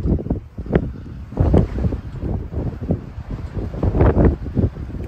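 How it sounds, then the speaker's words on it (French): Gusty wind of about 20 to 25 knots buffets a sailboat at anchor off the Greek islands, with rumbling low bursts of mic-catching gusts rising and falling continuously throughout. "Le vent s'est levé un peu"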